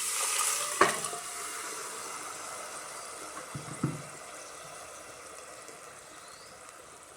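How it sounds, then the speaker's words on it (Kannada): Green chillies and boiled vegetables fry in a pan for an egg and vegetable stew. A steady broad sizzle carries throughout, broken by a couple of brief utensil clinks early on, then it settles into a soft, even hiss. "ಇವಾಗ ಸ್ವಲ್ಪ ಫ್ರೈ ಮಾಡ್ಕೊಳ್ಳಿ ಇದನ್ನು."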